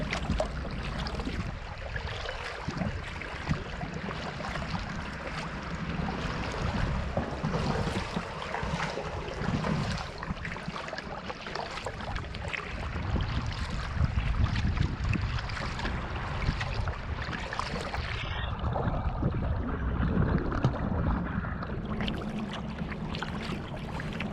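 Boat paddled north across Greens Lake, a steady wash of water and wind with soft, irregular paddle splashes, continuous and moderately close, no talk.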